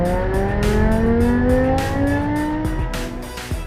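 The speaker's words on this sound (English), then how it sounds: "the sound of that V10 is pretty unique" A V10-engined car revs hard, its high engine note climbing steadily in pitch across several gears, loud and close with no talking.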